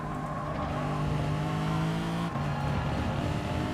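Race car engines in the video game GT Sport, during a Lexus race at Barcelona, drone loudly and steadily at high revs. Pitch shifts briefly partway through, and no one speaks.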